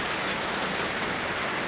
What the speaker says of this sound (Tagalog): Sugod na ulan ha.